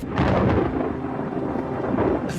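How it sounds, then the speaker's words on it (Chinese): Thunder rolls across the sky in a dramatic TV show scene, a loud, deep continuous rumble that swells at the start and holds for a couple of seconds with no voices. "此时天空雷声轰鸣"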